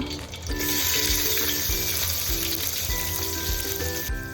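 Onion fries with whole spices in a pan for mutton biryani, giving a loud, continuous close-up sizzle with soft rhythmic stirring scrapes throughout.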